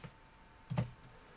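A short burst of computer keyboard typing in a Linux command-line session, a few quiet clicks clustered near the middle against a faint background.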